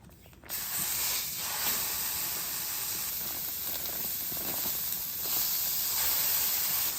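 A whole package of ground beef hisses on a hot griddle, a steady broadband sizzle that starts abruptly after a brief quiet moment and continues evenly at moderate level, with no voices.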